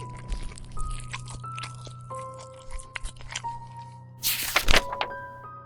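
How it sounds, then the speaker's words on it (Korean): Wet, crunching bites and chewing of food and bones come in irregular bursts over a low steady hum, ending in a loud, sharp crunch. "뼈째로 씹어 삼키는 소리요."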